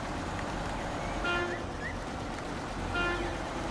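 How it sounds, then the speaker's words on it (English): A Mercer R230 truck horn in the video game SnowRunner gives two short toots over a steady engine rumble, each blast brief and moderately loud. "Horn sounds pretty nice."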